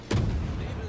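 Naval gun salvos fire in World of Warships, a single heavy boom opening sharply and rolling off into a rumbling tail, loud and close.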